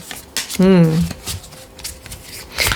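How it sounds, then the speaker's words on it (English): Tarot cards are shuffled with a soft papery riffle, and a brief voiced sound rises over it near the start. "The cards really need to be shuffled."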